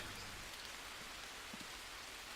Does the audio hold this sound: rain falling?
yes